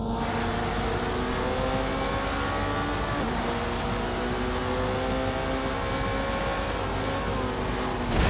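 Porsche engine racing in The Grand Tour game, a loud, continuous high-revving roar with gear changes and faint tire squeal throughout, no talking.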